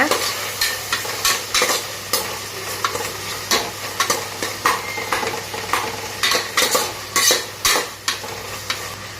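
Onions and tomatoes sizzle in a pan with salt and turmeric for tomato rice while a spoon stirs and scrapes repeatedly, loud and close, with no talking.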